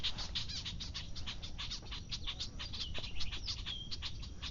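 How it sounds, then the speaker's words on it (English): Agitated birds near a fishing bank give rapid, repeated sharp chirps and calls in a dense, continuous chatter close by, with no talking. "Look at these birds. Look at how mad they get."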